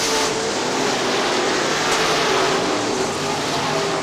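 Super late model race cars roar around an oval track at Crystal Motor Speedway in Michigan, a continuous dense engine drone at steady loudness with no clear passes standing out.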